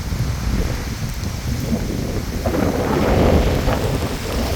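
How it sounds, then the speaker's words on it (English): Wind gusting by a creek in the Copco Valley, a loud, broad rushing roar that swells toward the end, blended with the wash of moving water nearby and no voices. "The wind is really starting to pick up now."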